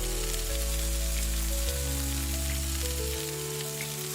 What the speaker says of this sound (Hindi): रघु ने मछलियों को मसाले में मैरिनेट करने के बाद उन्हें तवे पर फ्राई करना शुरू कर दिया।